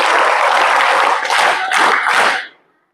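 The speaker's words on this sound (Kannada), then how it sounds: "ಮೊದಲಿಗೆ ಒಂದು ಚಪ್ಪಾಳೆ ಹಾಕಿ ನೀವೆಲ್ಲ ನೋಡೋಣ ಹೆಂಗಾಗ್ತೀರಾ" A crowd of students at a government high school event clapping together, a dense loud burst of applause lasting about two and a half seconds before stopping abruptly.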